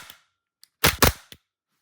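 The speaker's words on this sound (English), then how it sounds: "I am going to fire this, just dry fire it for you, just so you can see how snappy it is" Cybergun VFC FN FNS-9 gas blowback airsoft pistol dry fired: a few sharp, loud cracking reports in quick succession with small clicks of the slide before and after, close and without talk.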